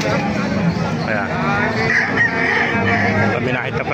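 Chickens cluck and squawk up close at the new public market in Calumpit, mixed with a busy crowd murmur and people talking nearby.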